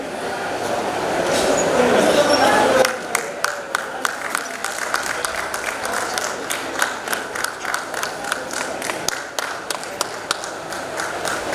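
An audience claps at an award ceremony during a folk art festival in Brahmapur: a broad wash of applause rises and then breaks into scattered, rhythmic individual claps, with a voice on a public address system over it.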